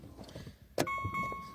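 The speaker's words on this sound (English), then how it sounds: "let's start by starting the engine" A sharp click followed by a steady engine hum with a tonal whine, as a used silver Hyundai Tucson 2WD manual car engine starts and settles into idle.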